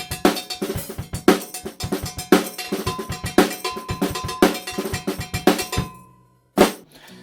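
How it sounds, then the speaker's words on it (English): An unbranded cowbell from a drum kit is struck in a steady, fast rhythm of bright, clanking hits. It plays loud and close, stops, then gives one final hit. "this is just an unbranded cowbell"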